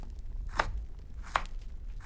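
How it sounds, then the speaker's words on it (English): Knife chopping meat on a board, two sharp distinct cuts about a second apart, close and fairly quiet against a low background hum. "Cut the meat."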